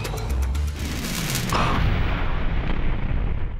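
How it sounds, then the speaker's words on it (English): A loud, rumbling fiery explosion as petrol is ignited by a spark, a dense, roaring blast of broadband noise with crackling that continues for several seconds without fading. "produces a spark, which ignites the petrol and produces a fiery explosion"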